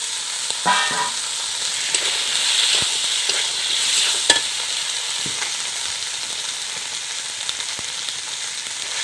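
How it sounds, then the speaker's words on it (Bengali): Chopped tomato and fried potatoes are stirred into frying chicken in a village kitchen, giving a continuous close sizzle with repeated spoon scrapes and knocks against the pan. "তারপরে দেবো বন্ধুরা আমি ভেজে রাখা আলু"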